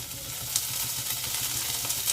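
Chopped beans sizzling in a hot pan for veg momo soup, a soft, steady crackling fry with faint stirring, fairly quiet and continuous, with no talking.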